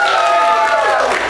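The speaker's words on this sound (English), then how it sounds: "really applaud and woo loudly for the one they would see" An improv comedy show audience breaks into loud applause with whoops and cheers, a dense burst of clapping and shouting voices that fills the room for the whole moment.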